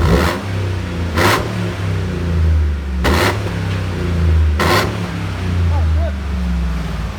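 A Chevy Avalanche LTZ with a 5.3L V8 and a Magnaflow exhaust idles with a deep, steady rumble and revs up sharply four times in quick bursts, loud and close.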